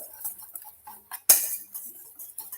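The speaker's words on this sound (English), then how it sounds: "I'm just going to stir them around, really, so it all just comes together" A spoon clinks against a cup while stirring a cinnamon spice mix for a winter warmer drink, with light scattered taps and one sharper, louder clink near the middle.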